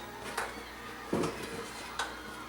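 Chopped small yellow onion dropped into a pan, making a quiet clatter and a brief soft thump plus a couple of faint taps at close range, with no talking.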